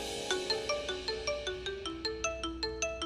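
A phone ringtone plays a repeating electronic melody of bright tones, steady and moderately loud with no voices over it.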